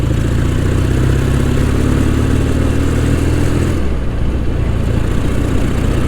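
A Royal Enfield Interceptor motorcycle climbs uphill with a continuous mid-pitched engine drone whose tone shifts about two-thirds through as the gear or throttle changes. It is loud and close, with no talking.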